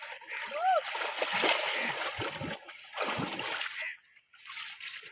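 Water splashes repeatedly as people bathe in the Ashapur river, sustained and close-up with brief pauses, while voices can be heard in the background.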